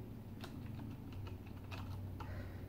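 Quick clacking keystrokes on a Corsair Strafe mechanical keyboard come in an uneven rhythm of taps. They sound fairly faint against a steady low hum in the room.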